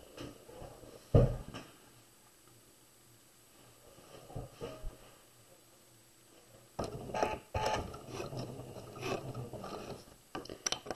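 A sewing machine stitches a half-inch seam on a fabric tote bag, its motor whirring in short bursts with pauses between runs and a brief back stitch, fairly quiet and without talk.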